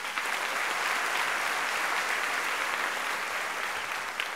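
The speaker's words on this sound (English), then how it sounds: "let's give her one more round of applause" Audience applause at a school district convocation hall of fame event, steady dense clapping from a large crowd filling the whole stretch at even loudness before tapering slightly at the end.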